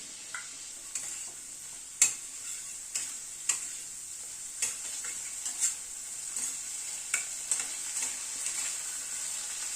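Masala with ginger paste fries in a pan for paneer, a low steady sizzle broken by sharp, irregular ticks and clacks of a spatula stirring against the metal, close and fairly quiet.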